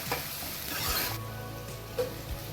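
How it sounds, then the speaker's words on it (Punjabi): Chopped onion frying in a pan while paalak paneer is being made, a steady close hiss with a few soft stirring scrapes, and no talking. "ਪਿਆਜ਼ ਭੁੰਨ ਹੋ ਰਿਹਾ"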